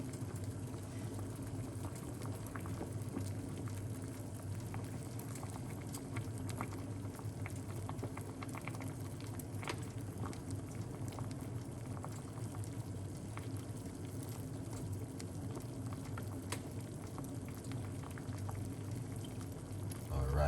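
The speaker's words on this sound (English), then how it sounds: "make this boil up for a little bit" A pot of gut cleanse drink boils on the stove, a steady low bubbling roll with faint patter that continues evenly and close by for the full length, with no speech over it.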